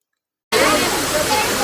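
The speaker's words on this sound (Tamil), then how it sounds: "உள்ளார போயிட்டு நீர்வீழ்ச்சி எப்படி இருக்குதுன்னு பார்ப்போம்" A waterfall in Kodaikanal roars in after half a second of silence, a dense, steady rush of falling water that stays loud and close to the end.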